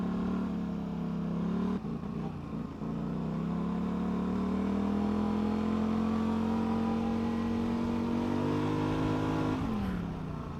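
ATV engine, a Polaris Scrambler or Can-Am Renegade, pulls hard along a straightaway, holding a steady rising drone with a brief dip near the start and the revs falling off at the end.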